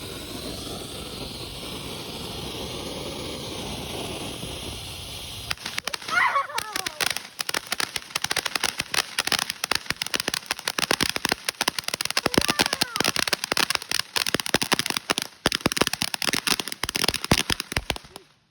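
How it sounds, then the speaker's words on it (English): Fourth of July fireworks go off outdoors: a steady hiss and whine of a burning fuse or fountain gives way to a long, dense run of sharp crackling pops and bangs, loud and close. "4th of July got fireworks for one time"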